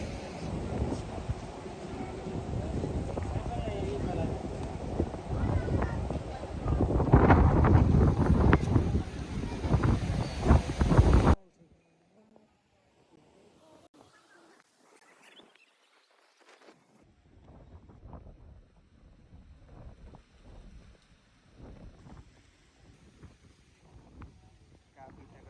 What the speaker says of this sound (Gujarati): કાફી તગડો પવન આવી ગયો છે અહીંયા તો.